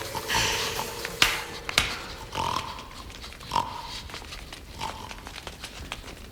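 Several short grunting oinks from pigs, spaced irregularly at moderate distance over a faint background with a few sharp clicks.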